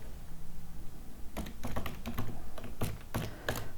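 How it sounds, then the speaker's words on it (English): Typing on a computer keyboard comes in quick uneven bursts of clicking keys, close and fairly quiet, with a short pause between the clusters. "typing."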